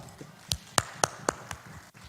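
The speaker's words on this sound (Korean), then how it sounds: "이 손이 지금 이렇게 박수도 치고 주먹도 칩니다." Hands clapping at a Saturday church revival meeting in Pocheon: five sharp, evenly spaced claps, close and fairly loud, standing alone against a quiet room background.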